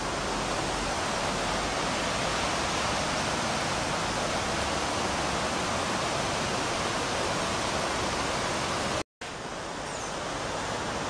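Steady, full rushing of water in a historic irrigation canal built in 1911 that feeds sugarcane fields of Central Venezuela, a continuous broadband roar with a brief dropout near the end.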